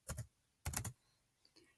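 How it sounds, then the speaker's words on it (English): A computer keyboard clatters in two quick bursts of keystrokes, close and crisp, with near silence between them and no voices. "click in the search box, and then you need to type site."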